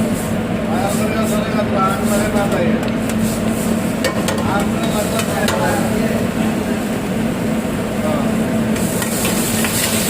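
Chicken pieces going into a pan of gongura biryani base, giving a steady, loud sizzle and frying hiss with stirring clatter throughout, under background voices.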